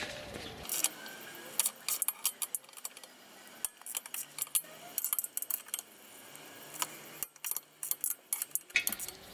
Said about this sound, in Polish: Musimy wziąć tradycyjny klucz.